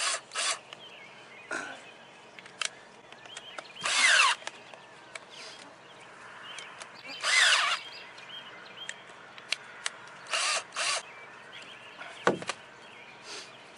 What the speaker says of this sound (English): We're going to use a 5/16" bit in our small drill here, handheld drill, and just loosen up these clamps.